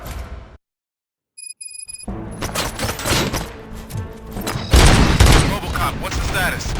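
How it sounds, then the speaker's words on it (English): Dense gunfire in the Robocop Rogue City video game erupts after a brief silence, a loud, continuous fusillade of shots and booms with a louder burst near the end, a voice speaking amid the shooting. "Gunshots? What's going on?"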